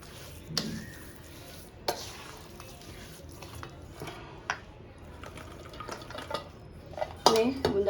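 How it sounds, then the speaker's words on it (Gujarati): Chopped mango being cut and stirred with spices for a sweet-and-sour pickle, with intermittent clinks of a utensil against a steel pot, scraping and mixing sounds, and a louder rattle near the end. "હવે એમાં આપણે કેરીને કટ કરતા જશું અને મિક્સ કરતા જશું"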